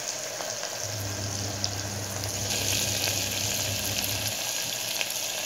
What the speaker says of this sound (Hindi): इसमें अदरक लहसुन डाल रही मैं, 2 चम्मच अदरक लहसुन लेंगे।